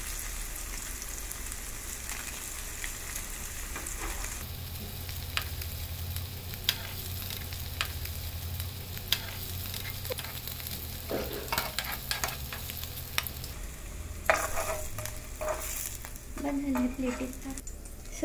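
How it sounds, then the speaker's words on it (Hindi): Paneer frying in oil on a tawa, a steady close sizzle running throughout with scattered pops and crackles, louder spatters near the end. "इसको थोड़ा सा फ्राई करते हैं। तो ये इस तरह गोल्डन ब्राउन हम लोग को करके लेना है"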